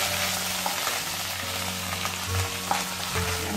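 Onions sauté in a pan for a mushroom biryani, giving a steady, close, dense sizzle with faint occasional scrapes and no talking.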